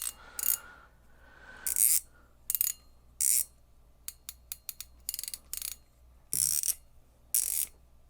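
The drag knob on a Shimano Saragosa SW spinning reel is turned through its detents, giving close, crisp bursts of ratcheting clicks. The bursts are separated by brief pauses in a quiet room.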